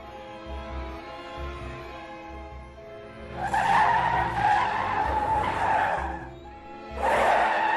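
A cartoon car races along, its tires skidding and squealing loudly in two long bursts over a steady engine drone.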